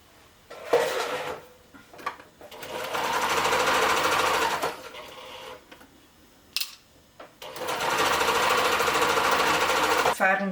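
A sewing machine stitching a COVID-19 fabric mask runs in two sustained bursts of rapid mechanical whirring, close and fairly loud, separated by a pause with small handling clicks and rustles.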